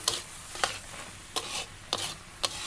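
Sweet corn with raisins, cashews and coriander leaves stirred while frying in a pan: about five soft, evenly spaced spatula scrapes over a quiet, continuous sizzle.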